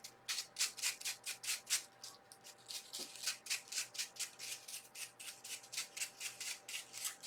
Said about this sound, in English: you just kind of burnish the gold leaf onto the heart